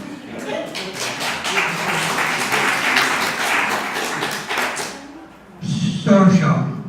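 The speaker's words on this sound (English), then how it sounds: "Give John a clap." Clapping from an audience for a speaker at a community engagement event on safeguarding adults: a sustained patter of hands for about five seconds, dying away before voices and a louder knock or thump follow.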